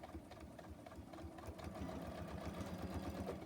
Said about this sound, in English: I'll have to go back and redo a little bit of stitching because I got too close to the edge.